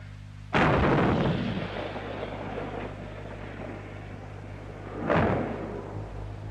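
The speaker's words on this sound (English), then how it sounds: "5mm tank gun fired from an M60 main battle tank." A 105mm-class main gun fired from an M60 main battle tank, one heavy booming blast with a long rumbling decay, then a second softer distant boom a few seconds later, over a low steady hum.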